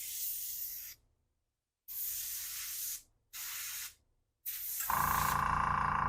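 Airbrush powered by a TimberTech AS-186K compressor sprays in short hissing bursts separated by silences, then a louder steady compressor-like hum and hiss takes over at the end.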